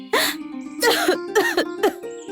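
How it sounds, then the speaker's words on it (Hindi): A run of harsh, bursting coughs, about four close bursts in quick succession, heard up close with a steady low hum in the background. "राधा कुछ देर तक खांसती रहती है"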